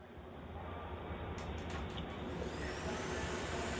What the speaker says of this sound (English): Oh, what? We got a vacuum?